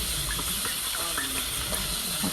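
Tomato sauce poured from a can into browned rice in a hot pan, giving a loud, steady steam-laden sizzle and hiss that runs through the whole moment, up close.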